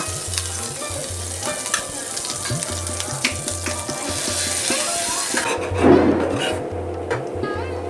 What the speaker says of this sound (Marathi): त्या पॅनमध्ये मी कांदा ओलं खोबरं शेंगदाणे आणि काजू सात आठ असे भाजून घेतले